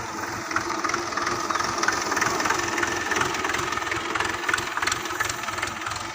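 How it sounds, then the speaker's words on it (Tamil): A tractor engine runs steadily close by, a low rumbling chug with a rough, knocking pulse that holds at a constant level throughout with no talking over it. "இன்ஜின் சவுண்டு பாருங்கள் எப்படி இருக்குன்ட்டு"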